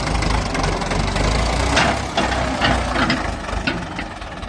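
A Ford 6600 tractor engine revs in a rural Thai workshop setting, its loud, rough, knocking idle rising into a series of repeated throttle blips that fade back between bursts.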